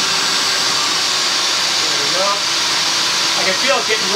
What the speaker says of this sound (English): vacuum starts to struggle.